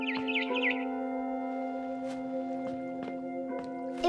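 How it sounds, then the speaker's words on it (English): Barn swallow chirping outside a window in the video game What Remains of Edith Finch: a brief, quick twittering at the start over a steady tonal musical hum, followed by faint scattered clicks. "Then I heard chirping outside my window."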